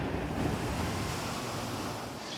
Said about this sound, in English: Ends up right here with a splash.